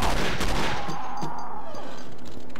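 An enemy's shotgun blasts in the Doom 2 wad Possest, an opening burst of booming shots that rings out and fades, with a few fainter thuds and game effects in the tail.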